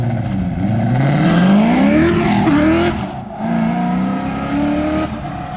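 A Coyote-swapped Mustang notchback launches hard in a 60-foot drag test, its V8 roaring up through the revs loud and close, a brief dip at the shift, then pulling again.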